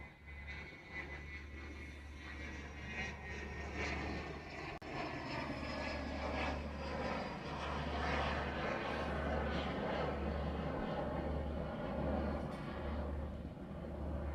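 At Honolulu airport, a medevac plane taxis with a steady, distant engine drone and a low hum under it, continuous and fairly faint.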